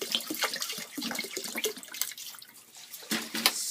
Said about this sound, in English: now add a lot of water